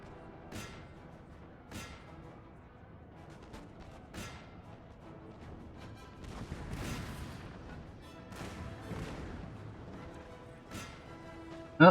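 Artillery fire in the video game Napoleon: Total War, a string of distant booming cannon shots at irregular intervals, with low battle rumble between them.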